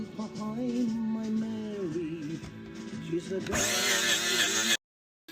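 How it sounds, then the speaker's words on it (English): Power drill fitted with a small wire brush stripping paint from a Nuffield BMC Mini tractor, whining steadily with shifting pitch and turning harsher and brighter near the end before it cuts off. "I'll probably go and get the drill in a minute and a wee wire brush on it."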